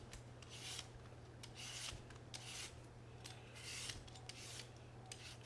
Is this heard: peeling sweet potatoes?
yes